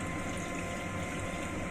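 Water gushes steadily into a cooking pot of squid adobo, a continuous splashing pour at moderate volume with no voices.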